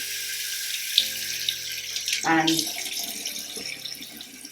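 Warm water runs from a sink tap in a steady splashing stream, with a gush of stronger flow midway, and someone speaks briefly over it.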